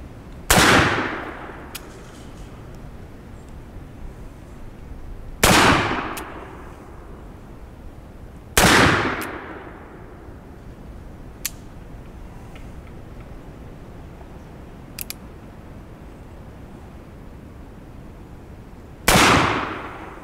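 An Uberti 1862 Police Model cap-and-ball revolver fires four loud, sharp shots spaced a few seconds apart outdoors, each with a short ringing decay, plus a couple of faint clicks in between.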